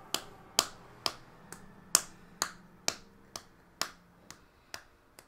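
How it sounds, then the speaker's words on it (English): About a dozen light, sharp hand claps in a slow, even rhythm, close and quiet, with no voices. "Lightly clapping my hands."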